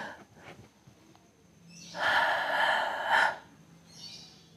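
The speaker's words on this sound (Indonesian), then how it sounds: "3 langkah itu sambil lepas napas gini." One long, forceful exhale during a stepping breathing drill for a military and police fitness test, a breathy rush lasting over a second, close to the microphone after quieter breaths.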